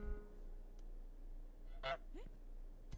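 A goose in Untitled Goose Game lets out a single clear honk followed by a shorter second call, set against quiet game ambience with no speech.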